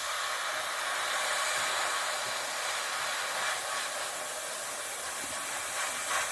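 A budget Gaahleri Seeker beginner airbrush spraying: a steady, close airy hiss that holds at an even level for several seconds, alone with no talk.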